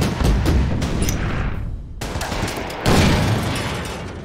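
Gunfire in an Order of Battle WWII strategy game as units attack anti-aircraft gun positions: loud, dense bursts of shots and booms rolling together, easing off briefly before a fresh heavy volley, with no talk.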